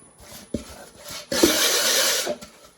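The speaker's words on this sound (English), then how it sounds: "I sand them off. Turn the lathe on real slow." Wood is sanded on a slowly turning lathe: a few light knocks and scratches, then a louder, sustained raspy rubbing for about a second, fading out at the end.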